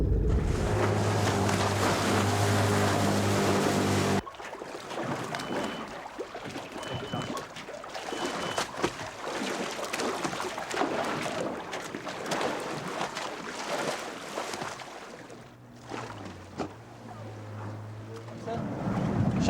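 Boat engines run on open ocean water during a tiger shark tracking trip, a steady low droning hum with wind and water noise, loud and close at first, then dropping back under wind rush and talk.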